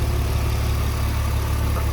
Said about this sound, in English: The engine idles really smooth